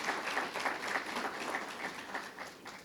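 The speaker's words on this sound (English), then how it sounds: "please give a round of applause for the staff" A crowd applauds staff at a workforce presentation, a steady wash of clapping held at moderate level for a few seconds with no voices on top.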